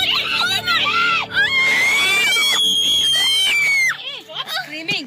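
Passengers scream inside a car during an animal attack while driving through a zoo: loud, sustained, overlapping shrieks and shouted voices that fill nearly the whole stretch before breaking into frantic talk.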